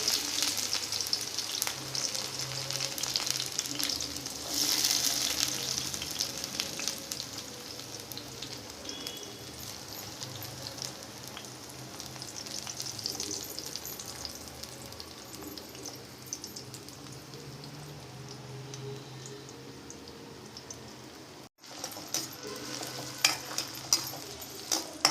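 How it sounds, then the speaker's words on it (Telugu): Onion frying in two spoons of oil in a kadai, giving a soft, continuous sizzle with faint crackles and occasional stirring scrapes, fairly quiet and close, briefly cut off near the end before the frying noise resumes. "ఆనియన్ వేస్తున్నాను."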